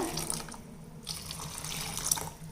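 Water pours and splashes into a pot with a gurgling, uneven flow, close up, with a brief lull midway.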